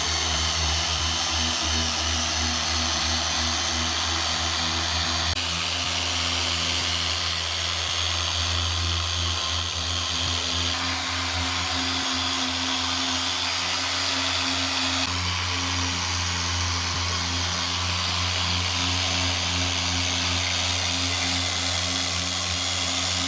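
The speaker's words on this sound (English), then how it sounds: "the main focus is sanding the car down and prepping it" A power sander runs continuously at close range on a car body, a loud steady buzzing drone with slight shifts in pitch as it works across the surface during paint prep.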